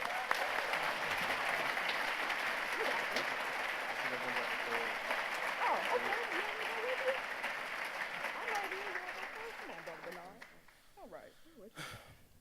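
Sustained audience applause at the Ujamaa Place Breakfast, a dense, steady roar of clapping hands that carries on for about ten seconds, then thins and fades near the end as a few voices surface.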